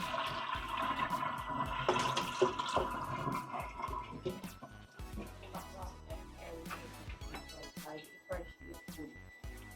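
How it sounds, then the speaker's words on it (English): Water pours and splashes briefly off goat meat pieces in a bowl, then trickles and drips while a person talks over it. "just pour the water off like so"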